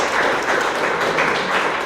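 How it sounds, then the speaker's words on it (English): Audience applause at a Black History Month leadership brunch, a dense, loud, steady wash of clapping from many hands that fills the whole moment. "So give yourself a round of applause for being here."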